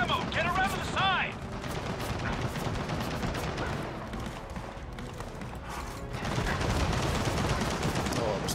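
Automatic weapon fire in the video game Gears of War 4 campaign, with dense bursts of gunfire and crackling impacts throughout, stronger toward the end, mixed with game sound effects.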